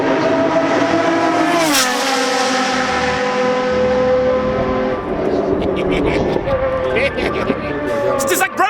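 Group C prototype race cars at a historic Le Mans event, loud high-pitched engines rising and falling as cars scream past close by, one sharp pass early, others following with buzzing revs and crowd noise.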